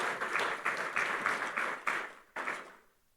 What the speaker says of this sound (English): Please give her a wonderful round of applause.